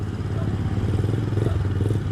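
A 50cc KXD motorcycle engine drones low and steady on a test ride with a helmet-mounted camera, close and continuous with a faint rattle riding over it.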